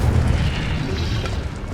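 Incendio fire spell cast in Hogwarts Legacy, a deep rumbling whoosh of flame that holds steady and loud for the whole moment, with no voices over it.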